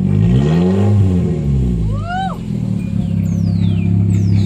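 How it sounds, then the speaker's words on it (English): Car engine revved through a custom exhaust: a loud, close rise and fall of engine roar with a sharp throttle blip in the middle and a steady rumbling idle around it. "Go ahead and rev it up a little bit"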